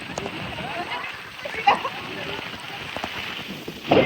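Heavy rain pours down in a steady spattering hiss, with a few louder splashes, while people talk over it.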